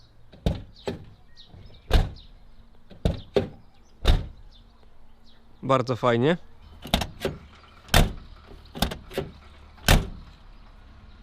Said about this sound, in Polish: Sprawdźmy sobie jak drzwi się zamykają.